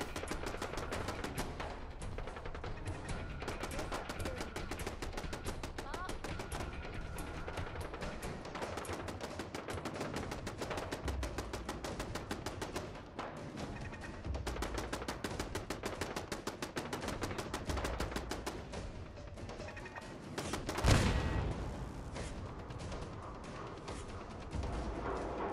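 Sustained automatic gunfire from a turret in Fallout 4, dense rapid shots running nearly continuously for the whole stretch, with a louder blast near the end.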